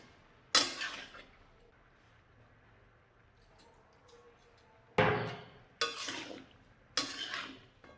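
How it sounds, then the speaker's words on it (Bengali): Spinach curry being stirred in a pan with a metal spoon: four separate scraping clatters, one early and three close together later, with quiet gaps between, no talk. "এইবার একটু নেড়ে নেব"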